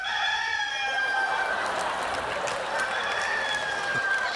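A rooster crows one long, drawn-out call, clear and fairly close, over a faint background hiss.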